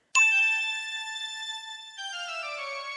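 A bright chiming video game phone ringtone playing a Bach composition starts suddenly, holding sustained bell-like tones that shift to a new note partway through, clear and alone.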